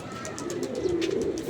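Pigeons coo in soft, repeated throaty calls against a busy background murmur, near and moderately loud.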